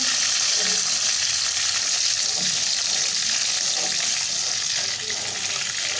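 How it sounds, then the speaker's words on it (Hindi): Ginger and garlic sizzle and crackle steadily in a hot pan, a bright continuous frying hiss with occasional stirring, close and loud. "ये अदरक लहसुन है जिसको हम थोड़ा सा फ्राई कर लेंगे।"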